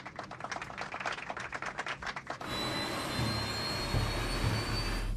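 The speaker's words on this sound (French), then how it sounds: "Poussée de décollage." Jet airliner engines on a TWA flight leaving New York spool up to takeoff thrust, starting as a rhythmic rumbling whine and then swelling into a steady, loud, broadband roar with a high whine on top.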